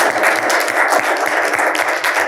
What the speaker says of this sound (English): round of applause for Kristi